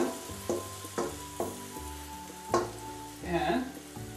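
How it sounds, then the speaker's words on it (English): Spanish omelet mixture poured into an oiled pan, sizzling loudly up close with a series of sharp bursts and scraping stirs, about one every half second, and no talk. "And you take your mixture now, and you just put very gently into your"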